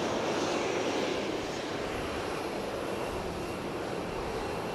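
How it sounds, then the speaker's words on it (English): A Q400 turboprop airliner taking off at Fukuoka Airport, a steady, broad engine roar heard from a distance, with no talking. "let's see if we can get that Q400, not that one, the one that's ready for takeoff"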